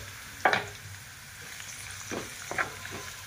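Turmeric tipped into a pan of frying chillies while cooking poha, with short bursts of sizzling and stirring over a quiet background hiss.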